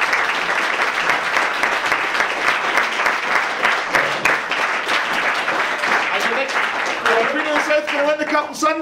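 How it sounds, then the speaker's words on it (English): Applause from an audience at a football forum evening, dense steady clapping filling the room throughout, with voices and cheers rising toward the end. "just a big round of applause and a massive thanks to you both"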